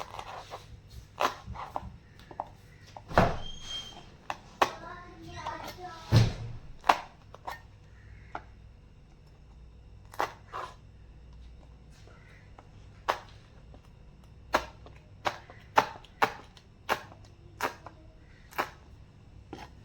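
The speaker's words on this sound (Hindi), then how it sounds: "अब हम ग्रीन चिलीज़ को थोड़ा सा ऐसे तिरछा काटेंगे।" A knife cuts green chilies diagonally on a board, giving a series of sharp, separate taps spread unevenly over time, with a few louder thuds and faint kitchen noise between them.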